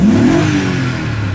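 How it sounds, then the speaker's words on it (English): A 2002 BMW X5 engine revs up close and loud, its pitch climbing sharply through one quick rise, then settling into a steady, strong mid-range drone. "sounds fantastic when you rev it up"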